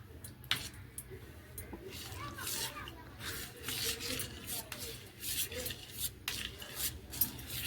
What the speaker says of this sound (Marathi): आणि या दुधामध्ये ना असा छान मिक्स करून घ्यायचा आहे म्हणजे विरघळायचं आहे पूर्ण पूर्ण विरघळला पाहिजे